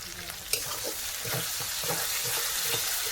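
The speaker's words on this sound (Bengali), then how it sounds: "মশলাটাকে ভাজা ভাজা করে নেব ভালো করে।" Spice paste with turmeric and salt sizzles steadily in a pan, a continuous hiss broken by several scraping stir strokes, close and fairly loud throughout.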